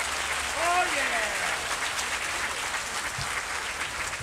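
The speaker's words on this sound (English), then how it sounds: "I think we owe them a great round of applause from the United States Marine" Audience applause at a luncheon honoring a United States Marine Corps band, a dense sustained clapping from a large crowd filling the whole stretch, with a brief voice rising over it near the start.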